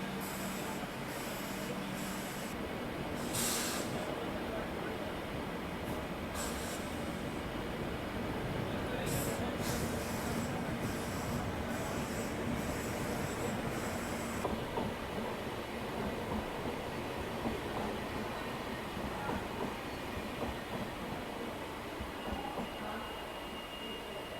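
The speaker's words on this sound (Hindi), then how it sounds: "कोई ट्रेन यहाँ पे क्रॉस हो रही है।" A train passing at an Indian railway station, a steady broad rumble and rushing clatter that carries on throughout, with a series of brief hissing bursts early on, heard from on board another train.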